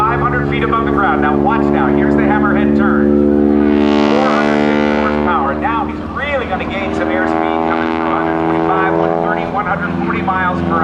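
A 450-horsepower stunt biplane pulls through a hammerhead turn at the 2006 NAS Oceana airshow, its engine a loud, steady droning roar that swells and dips slightly through the maneuver, with a voice talking over it.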